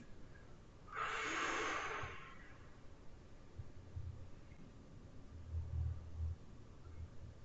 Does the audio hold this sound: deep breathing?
yes